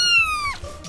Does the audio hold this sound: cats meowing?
yes